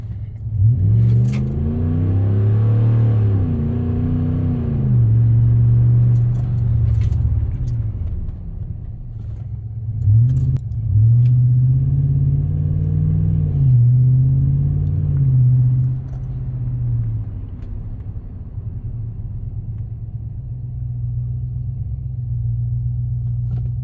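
RAM 1500 pickup truck driving on the road to bed in new PowerStop Z36 brakes, engine rumbling and revving steadily through several acceleration pulls, loud and close from inside the cab.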